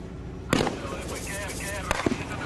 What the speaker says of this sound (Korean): 고무탄, 공포탄 총격에 부상자가 속출합니다.